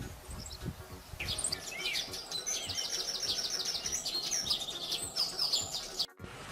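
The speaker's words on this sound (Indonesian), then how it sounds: "sparrow," A sparrow chirping in rapid repeated tweets over a busy, noisy outdoor background, steady chattering at moderate distance with no one talking.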